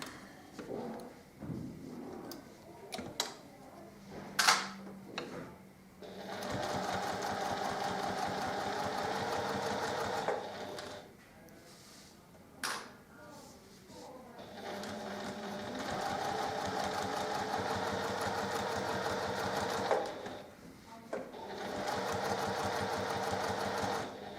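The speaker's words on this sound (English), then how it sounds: "I'm going over and first stitching and can cut off" A sewing machine stitches a self binding block mat, its steady motor whir running in long bursts of several seconds with short pauses between, close and alone with no talk.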